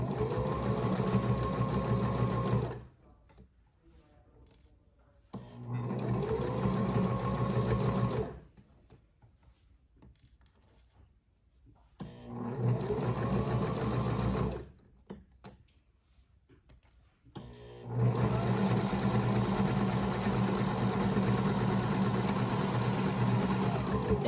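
A sewing machine backstitches a fabric Chromebook case in three loud steady runs, each a few seconds long, separated by quiet pauses, then a long continuous run at the end.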